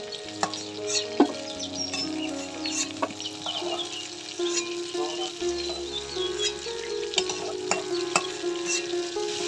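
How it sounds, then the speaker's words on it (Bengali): Potatoes frying in oil in a pan over a village wood-fired stove, a steady sizzle broken by the scrape and clatter of a spatula stirring and lifting them out, with chickens clucking faintly in the background. "আলুটা ভেজে নিলাম, এবার তুলে নিচ্ছি।"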